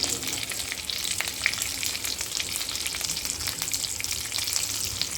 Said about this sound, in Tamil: கடுகு பொரிஞ்சோன்னு வெங்காயம் பச்சை மிளகாய் எல்லாத்தையும் கலந்துடலாம்